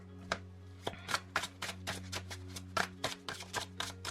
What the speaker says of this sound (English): We're gonna give a little bit of a shuffle